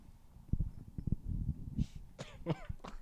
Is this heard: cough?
yes